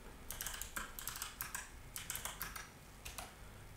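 Fingers typing a short command on a computer keyboard while setting up software on a Raspberry Pi; irregular bursts of crisp, close keystrokes clatter in quick clusters with short pauses, no voice.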